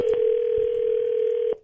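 A telephone dial tone plays as a loud, steady, unbroken hum before a prank call, then cuts off abruptly near the end.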